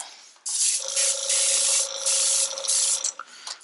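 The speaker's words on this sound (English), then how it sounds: "I'm gonna spray a couple of times" A steady hiss of an airbrush spraying glow-in-the-dark paint onto a crankbait lure at 40 PSI, in several close bursts with brief pauses between sprays.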